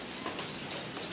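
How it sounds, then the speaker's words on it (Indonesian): Rain falling outside a house, a steady close patter of drops with faint ticking impacts, even and unbroken, no voices. "lagi hujan guys tuh"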